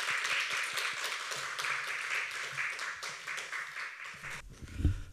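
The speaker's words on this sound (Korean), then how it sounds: "큰 박수로 환영해 주시기 바랍니다." Audience at a Won Buddhist women's association 25th anniversary event applauds to welcome a keynote speaker, steady clapping for about four seconds before stopping, followed by a brief low thump.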